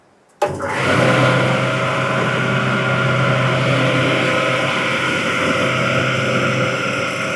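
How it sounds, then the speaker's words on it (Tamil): A coconut dehusker machine starts abruptly and then runs continuously, a loud, steady motor hum with a strong mechanical whine that holds without change, and no voices are heard. "இப்போ மிஷின் எப்படி ரன் ஆகுது எப்படி உங்களுக்கு அவுட்புட் வருதுங்கிற லைவாக பார்க்கலாங்க"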